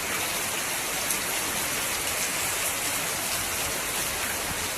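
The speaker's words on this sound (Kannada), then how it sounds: "ಎಷ್ಟು ಜೋರು ಮಳೆ ಬೀಳ್ತಾ ಇದೆ ನೋಡಿ" Heavy monsoon-style rain pouring steadily outdoors, a dense, even hiss of drops drumming on surfaces with no breaks, loud and close with no voices.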